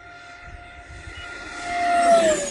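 An E-Flite F-4 Phantom II RC jet with an 80mm electric ducted fan, diving steeply: a whining fan tone rises and swells in loudness as the model approaches and passes nearby.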